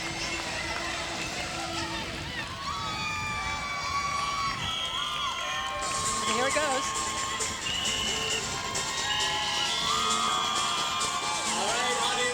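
Crowd at the San Francisco Pride Parade shouting and whooping as a cheer squad leads a cheer outdoors, a busy mix of voices with a brief spoken line.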